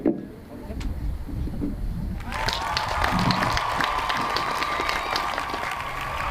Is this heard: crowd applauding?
yes